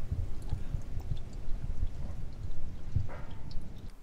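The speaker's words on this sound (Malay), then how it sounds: "pastikan semua minyak hitam atau minyak enjin yang telah dipakai itu keluar daripada tangki tersebut" Used engine oil drains from a car's oil pan, pouring and trickling quietly with small gurgles and drips that continue steadily.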